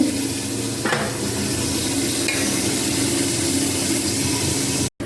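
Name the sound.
brinjal and chilies lightly frying in a pan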